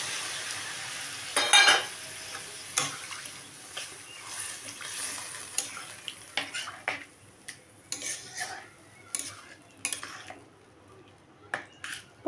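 Pointed gourd (potol) bubbling in a pan after water is poured over the fried pieces, with soft sizzling and intermittent clinks and scrapes of a stirring utensil against the pan, close by and moderately quiet.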